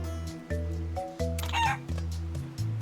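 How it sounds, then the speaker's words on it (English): A chicken clucks in the video game Like a Dragon: Pirate Yakuza in Hawaii, a run of repeated clucks with a louder, sharper squawk in the middle, set over a steady tonal game backdrop. "Okay, what's the chicken's name?"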